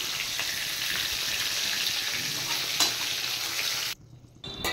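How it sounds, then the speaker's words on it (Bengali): Pointed gourd and potato pieces fry in hot oil, a steady loud sizzle with faint stirring scrapes that drops off sharply near the end before returning briefly; no voices. "পটল ভেজে নামিয়ে এবার কেটে রাখা আলুগুলো ভেজে নিচ্ছি।"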